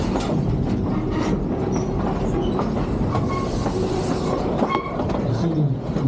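A train rolls steadily along a railway past green boxcars, its wheels giving a continuous loud clickety-clack rumble with faint squeals, heard up close throughout.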